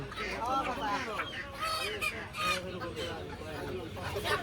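Repeated nasal quacking and honking from several ducks for sale at a market, close by, overlapping in irregular bursts amid a busy, noisy background.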